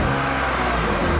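BMW E36 revs loudly and steadily up close in a short burst, a sustained droning engine sound with no voices. The car had been sitting abandoned and has a suspected bad coil pack.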